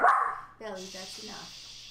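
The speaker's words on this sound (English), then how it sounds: "Sorry for the dog." A dog gives one sharp close bark on an outdoor hill trail, followed by a person speaking over the quiet background.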